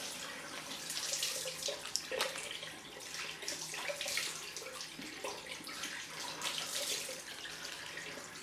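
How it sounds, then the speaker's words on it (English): Cold water running from a tap for a rinse after a head shave, a continuous splashing flow with shifting intensity as the water hits and spills, fairly quiet and close. "Cold rinse."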